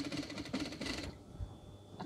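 A sewing machine stitches piping onto a decorative scatter cushion, a close, steady run of rapid mechanical clatter for about a second before it stops and only faint room noise remains.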